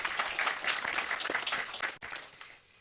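A crowd at an outdoor groundbreaking ceremony claps in steady applause, fairly close and moderately loud, thinning out and fading toward the end.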